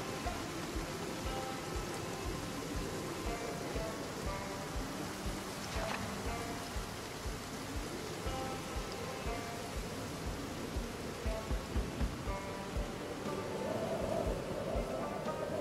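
Steady rain falls in the video game Project Zomboid, a dense, continuous wash of hiss across the whole stretch with faint patters over it and no talking.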